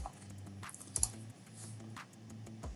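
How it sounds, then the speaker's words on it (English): Typing on a computer keyboard, with scattered soft key clicks, a few louder taps, nearby and quiet, no voice. "I just click in there and start typing"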